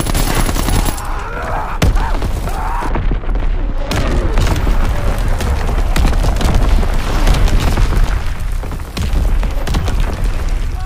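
Incoming artillery slams down in Call of Duty WW2 combat, loud heavy booms mixed with rattling gunfire and machine-gun bursts in an unbroken, chaotic barrage.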